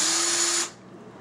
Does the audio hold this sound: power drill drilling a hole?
yes